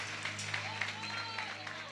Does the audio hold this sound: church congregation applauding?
yes